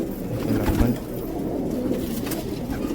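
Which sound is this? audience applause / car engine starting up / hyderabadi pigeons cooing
hyderabadi pigeons cooing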